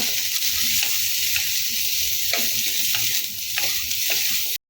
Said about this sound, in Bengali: শক্ত সবজিগুলো আগে দিয়ে দিচ্ছে আবারও ভালো করে নেড়ে চেড়ে নেব